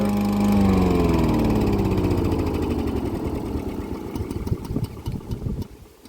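A Dnipro-M self-propelled lawn mower engine runs loud and steady close by, its tone dropping slightly as the throttle settles, then turning rougher and uneven toward the end.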